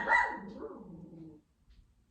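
A pet dog gives a single loud, drawn-out bark that trails off into a low growl indoors, then quiet.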